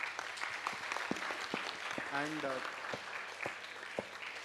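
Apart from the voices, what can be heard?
audience clapping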